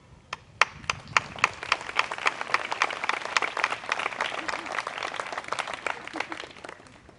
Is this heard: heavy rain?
no